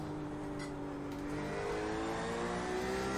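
A flat-six race car engine with straight-cut gears in the iRacing video game hums at high revs, a steady whining drone that climbs gradually in pitch, moderately loud with no talk.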